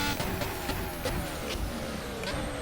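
A Formula 1 car on the Chinese Grand Prix circuit in a racing video game brakes into a corner. Its high engine roar is broken by a series of sharp gearshift pops as it slows.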